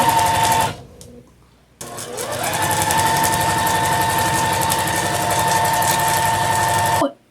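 A sewing machine runs steadily, back-stitching and then stitching half-square-triangle quilt blocks for a Fourth of July quilt top, with a brief pause before a long, continuous loud whir.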